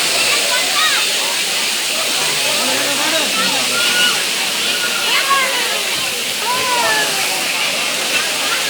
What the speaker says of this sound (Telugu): సో ఇక్కడ పెద్ద వాటర్ ఫాల్ ఉంది అండ్ అక్కడ చిన్నది ఉందన్నమాట.